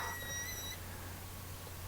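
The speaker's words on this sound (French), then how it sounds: "Quand il bip, c'est qu'il y a du métal." A stud finder detecting a metal rail sounds a thin, high-pitched electronic tone steadily for under a second over a constant low hum, then stops.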